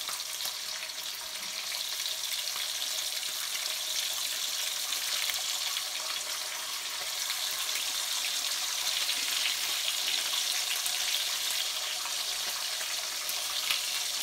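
Bacon sizzles steadily in an electric skillet, a dense continuous crackling hiss with fine popping that stays close and even for the whole stretch, with no talking.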